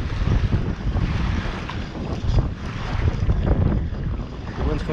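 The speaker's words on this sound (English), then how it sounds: "The wind's coming right for us" Strong wind buffets the microphone while fishing for striped bass, a dense, continuous roar with gusty swells throughout and no clear voices.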